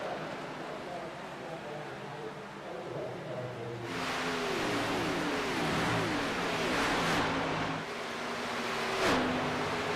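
Race car engines in a sim racing game at Atlanta Super Speedway drone and rise in pitch as cars pass in a pack, with a sustained roar and repeated whooshing swells, under a commentator's voice.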